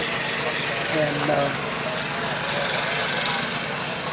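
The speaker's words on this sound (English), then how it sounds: "it's run by a tractor with a long belt out here" Tractor engine driving a sawmill through a long belt at an outdoor heritage demonstration, a steady loud mechanical drone with someone speaking over it.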